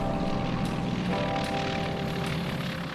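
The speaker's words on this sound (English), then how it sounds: "Cargo planes flew in more freight, landing on frozen lakes." A propeller cargo plane flies over frozen Alaskan terrain, its engine giving a steady, loud droning hum that continues without a break and with no talk over it.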